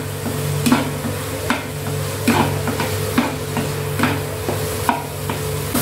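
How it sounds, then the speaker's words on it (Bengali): Beetroot and garlic paste being stirred and fried in a pan in a home Indian kitchen, with a steady sizzle and a regular run of spatula scrapes and taps roughly every second, close and alone without talk. "ভাজা ভাজা করতে হবে"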